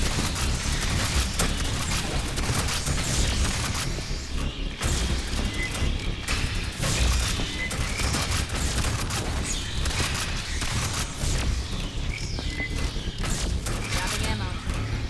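A deployed automated sentry gun in the sci-fi shooter Aliens: Fireteam Elite fires dense, rapid bursts of gunfire amid a chaotic firefight, with booms and clatter, under game voice chatter.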